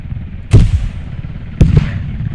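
Gunfire in the military shooter game Squad: two loud, sharp shots about a second apart over a steady low background rumble.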